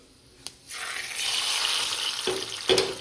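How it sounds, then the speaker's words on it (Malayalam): Hot mustard seed tempering poured into a beef curry, a sudden loud sizzle bursting after a small clink and hissing on steadily, with a second sharper crackle near the end. "ഇനി നമ്മൾ ഇതിലോട്ട് ഒഴിക്കുക അപ്പോൾ ഒരു ഷെർ സൗണ്ട് കേൾക്കാം നിങ്ങൾക്ക്"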